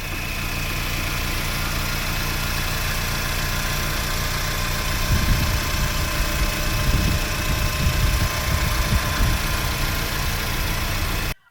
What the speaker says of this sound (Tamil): நெக்ஸ்ட்டு இன்ஜினோட சவுண்டு உங்களுக்கு இன்ஜின் பக்கத்தில் வச்சு காமிக்கிறேன்